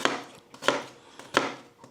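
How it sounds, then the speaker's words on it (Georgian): A knife chops sausage on a board for solyanka soup, giving three sharp, evenly spaced knocks with fainter taps in between, close and fairly quiet. "აი ეს ჩაჭრებს ვაკეთებთ."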